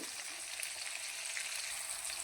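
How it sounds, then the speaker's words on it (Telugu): Dried fish frying in hot oil in a home kitchen, giving a dense, steady sizzle with fine crackling that runs continuously at close range and never lets up. "ఆయిల్లో ఇవి రెండు నిమిషాల పాటు వేయించుకోవాలి"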